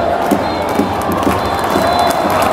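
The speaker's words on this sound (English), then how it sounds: "Crowd chanting Söder's name." Football crowd at a Gothenburg stadium for IFK Göteborg versus Östersunds FK, cheering and chanting a player's name in a loud, rhythmic roar of massed voices that continues throughout from a distance across the stands.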